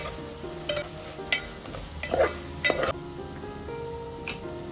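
Raw mango pieces stirred into fried onions and tomatoes in a pan for a Telugu mango pulusu, with soft scraping strokes and a few louder spoon clatters against the pan over a faint sizzle, close and without talk.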